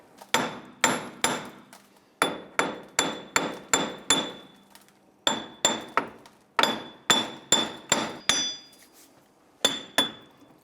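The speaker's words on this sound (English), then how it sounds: "continue to tap around here until the hub separates from the knuckle" Steady series of sharp metallic hammer taps around a wheel hub to break it free from the steering knuckle on a 1999-2004 Jeep Grand Cherokee, about twenty ringing strikes in quick clusters, close and loud with brief pauses between bursts.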